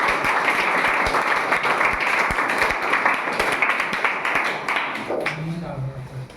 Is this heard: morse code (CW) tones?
no